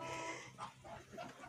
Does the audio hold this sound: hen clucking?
yes